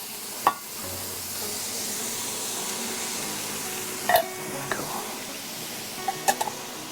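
Peppers are added to a hot pan and stirred, giving a steady close sizzle with a few sharp clinks and scrapes of the utensil against the pan.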